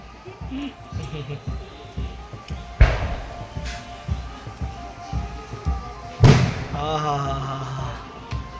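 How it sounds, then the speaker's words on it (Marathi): Firecrackers burst in the distance during a sudden evening rain, with two sharp, loud bangs a few seconds apart over a steady background of rain and voices. "आमच्या बघा इथनं दिसते बघा फटाके फुटते."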